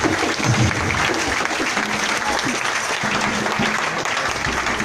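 A church congregation claps and cheers for God in steady, dense applause that runs throughout, loud and close, with a few voices mixed in.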